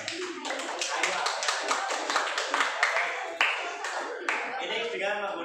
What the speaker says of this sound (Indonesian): tepuk tangan dulu siapa yang